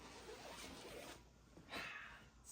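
A zipper being pulled open on a sewn fabric floor pouf, a soft continuous rasp with a brighter, louder zip stroke near the end, heard close up without talk.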